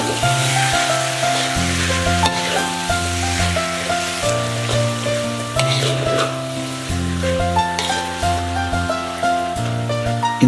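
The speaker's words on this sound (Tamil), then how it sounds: "வெங்காயம் நல்லா ஃப்ரை ஆனதுக்கப்புறம் தக்காளி ஒரு கைப்பிடி, புதினா, மல்லி இதையும் சேர்த்து நல்லா ஃப்ரை பண்ணி விடுங்க." Onions, tomato, mint and coriander fry in a pan for a chicken gravy, giving a continuous close sizzle and crackle with occasional stirring scrapes, loud and steady throughout, with music playing underneath and no talking.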